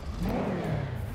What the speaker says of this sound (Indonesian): Itu V10 Porsche sih